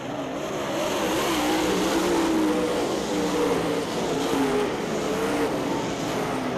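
Late model race cars roar around Ocala Speedway in an all-star feature, a dense, steady blend of engines at moderate distance with wavering pitch as the pack runs, no voices over it.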